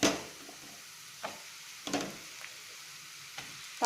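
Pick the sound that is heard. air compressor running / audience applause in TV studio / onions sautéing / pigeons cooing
onions sautéing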